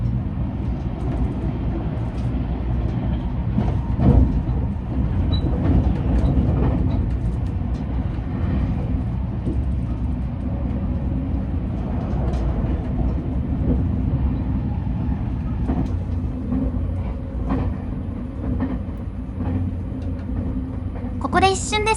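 The three-car limited express Mahoroba runs on the Osaka–Nara route near Kashiwara, Osaka, heard from on board as a steady low rumble with faint rail clicks throughout, under a speaking voice.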